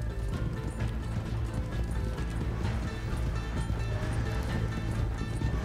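Horse galloping in the Red Dead Redemption 2 video game, a steady rapid rhythm of hoofbeats heard close and continuous over a low rumble, with no talk.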